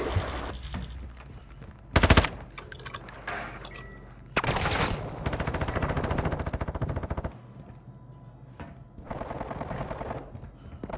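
Video game gunfire rattles through a multiplayer match, with sharp loud bursts near 2 and 4.5 seconds and sustained rapid automatic fire running beneath.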